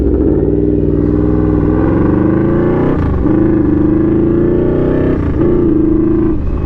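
A first-generation Yamaha V-Max motorcycle (1985–2007 model) ridden on the road, its loud, close engine droning steadily, with two brief dips where the pitch drops and climbs again.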